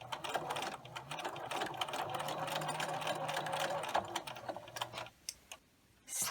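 Sewing machine stitching one end of a fabric tube closed for a catnip cat pillow toy, a steady rapid clatter that runs for about five seconds, then a brief pause and a short final burst.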